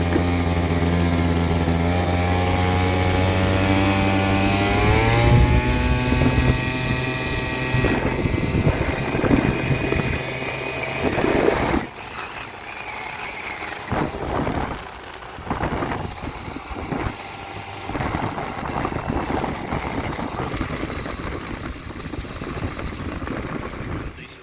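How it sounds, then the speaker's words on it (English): A Yamaha Zuma scooter fitted with a Malossi 70cc big bore kit runs during break-in riding, its engine droning and rising in pitch, then buried under heavy buffeting wind noise for the rest of the ride. "been putting a few miles on the Zuma with the Malossi 70cc big bore kit"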